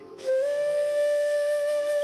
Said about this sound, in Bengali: ট্রেনটা হুইসেল বাজিয়ে আস্তে সুস্তে ধীরে ধীরে স্টেশনে এসে দাঁড়ায়।